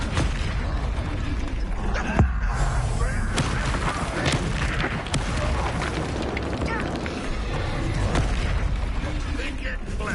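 In Hogwarts Legacy, a Bombarda spell explodes with heavy booming blasts over constant dense game noise, with voices mixed in.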